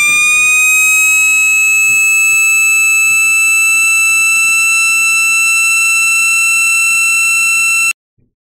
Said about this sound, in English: So, the next siren at the C3 is this one.